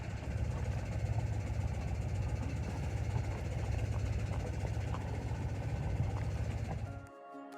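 A sailboat's small motor idles in neutral with a steady, low rumbling throb at close range, continuous until it cuts off near the end.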